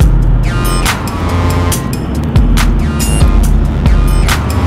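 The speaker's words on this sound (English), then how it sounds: "So I'm on my way now to take the car back to the dealership" Steady engine drone and road rumble from inside a van travelling on the road, with rhythmic thumps and ticking over a constant low hum.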